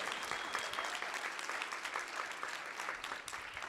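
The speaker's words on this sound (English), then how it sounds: "applause, applause" Audience at a panel event on Indigenous perspectives breaks into applause, dense continuous clapping from a large room heard alone, moderately loud and steady for the whole span.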